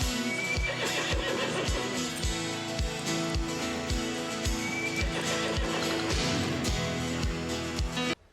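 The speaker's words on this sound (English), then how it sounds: "she ends up successfully breaking that wild horse" A wild horse whinnies twice in a TV show scene, high and clear over steady clip-clop hoofbeats and a loud instrumental music bed.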